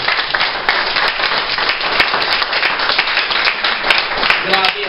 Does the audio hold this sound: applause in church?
yes